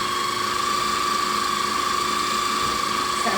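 A food processor whirs steadily as it chops garlic with oil and lemon juice for hummus, giving a continuous high mechanical whine with no talking.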